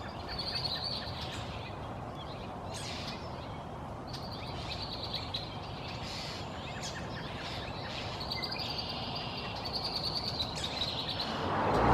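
Red-winged blackbirds sing at a pond in spring. Their repeated calls come from a distance over a steady outdoor background hiss.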